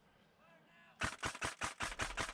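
Paintball markers laying down cover fire during a team game on an outdoor field, a rapid burst of about eight sharp pops in even rhythm, close and fairly loud after a quiet lead-in.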